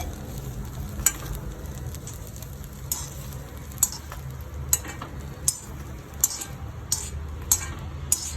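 Ingredients for prawn-powder chammanthi sizzle in a pan with a steady hiss, punctuated by sharp metallic scrapes of a utensil stirring at irregular intervals.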